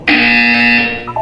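A loud, harsh electronic buzzer from the video game Portal 2 sounds once, holding steady for about a second before it tails off into a short, faint tonal blip.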